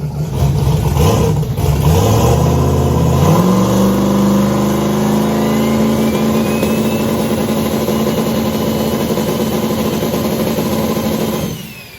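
A car engine fitted with a new 98mm Precision race turbo is held on a two-step launch limiter. It rises from a low idle into a loud, sustained, crackling stutter that holds steady for about ten seconds before cutting off.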